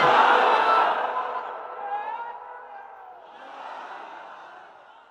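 A crowd at an outdoor Islamic religious sermon shouts a loud collective chant that swells at the start and then tapers into a fading murmur of many voices.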